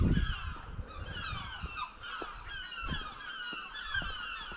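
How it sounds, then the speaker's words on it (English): Seagulls calling on a sea cliff at Auchmithie, many overlapping squawks and cries at moderate distance, repeated in quick succession with faint gusty buffeting underneath. "There's so many seagulls up here."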